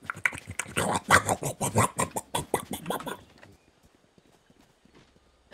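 Voice imitating Wingman noises from the Valorant video game, a rapid string of close, loud, choppy grunting syllables for about three seconds, then near silence.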